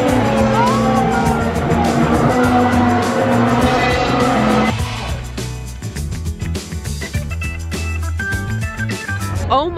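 Race cars thunder past during a race, a loud close engine roar with whining tones that drops in pitch midway as the pack goes by, then a second layer of engine noise continues with crowd-like background wash.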